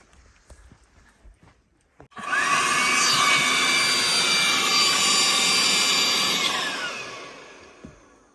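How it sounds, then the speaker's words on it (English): A blower sucks air out for a vacuum seal. It starts abruptly with a loud, steady close-up roar and a high whine that holds for several seconds, then fades off, after a few faint knocks beforehand. "30-40 seconds on the blower to suck that air out"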